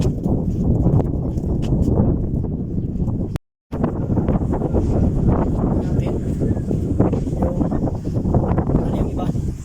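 Strong desert wind, carrying dust, buffets the microphone in a steady, loud roar throughout, cut by a brief silent gap, with a voice briefly audible.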